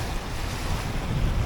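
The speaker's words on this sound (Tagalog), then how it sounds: "Kaso malalaki nga ang alon." Large ocean waves crashing with strong wind buffeting the microphone while fishing from shore, a steady, loud, broadband roar with no voices.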